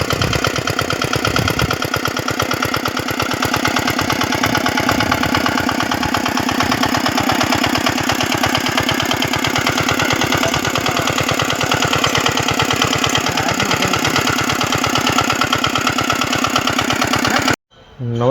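A Giriraj nano tiller's small engine runs steadily for about seventeen seconds with a fast, even thudding beat, loud and close, then cuts off abruptly near the end.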